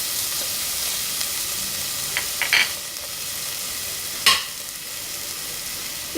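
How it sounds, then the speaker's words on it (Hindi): Chopped ginger, garlic and green chilli hit a tablespoon of hot oil in a pan for spring rolls, giving a steady close sizzle with a few brief clinks of stirring. "और इसमें ये अदरक लहसुन और ये हरी मिर्च जो मैंने चॉप करके रखी थी वो डालूँगी।"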